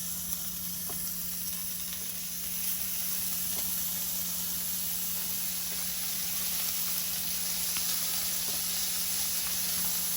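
Three slices of bacon frying in a pan at just under 300 degrees give a steady, even sizzle with soft crackles throughout, fairly close and continuous, with no talking.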